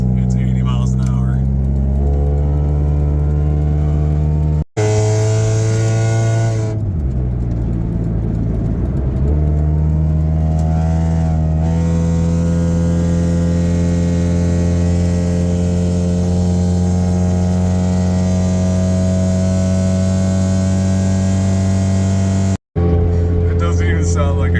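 An Acura Integra with a very bad exhaust drives at interstate speed, giving a loud, raspy, droning buzz that holds steady with brief revving shifts, heard from inside the car with a person talking over it.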